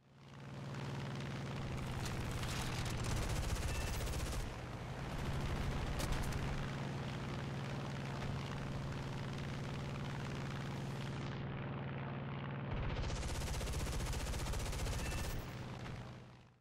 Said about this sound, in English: set up a head-on pass in which I can direct my fire towards the cockpit